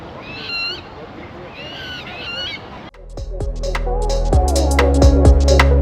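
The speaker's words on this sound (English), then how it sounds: "Obviously very busy with birds this time of year." Birds calling at Cwmbran Boating Lake, with goose-like honks and other calls, first faint and distant, then louder, repeated honking near the end.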